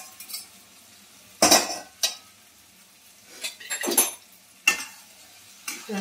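Boiled potatoes and soybean chunks stirred in a pan with a metal spoon, giving several distinct scraping and clinking strokes against a faint sizzle, close and fairly loud, separated by short quiet pauses.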